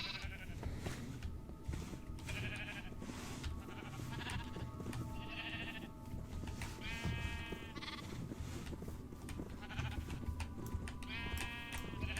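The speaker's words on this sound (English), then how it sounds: "the baby sheep can escape through there" Baby sheep in Minecraft bleat repeatedly over a constant background hum, several high, wavering calls spread across the stretch, some overlapping.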